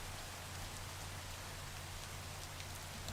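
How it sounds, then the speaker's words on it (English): Steady rain falls in the video game Minecraft, a dense, even hiss of drops with a low rumble beneath, continuous and unbroken throughout. "It's raining."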